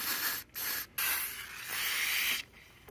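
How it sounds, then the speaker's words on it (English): Close, hissing aerosol spray of grease into a car window channel in several short bursts separated by brief pauses, the last one longer and steady. "we're gonna spray the grease"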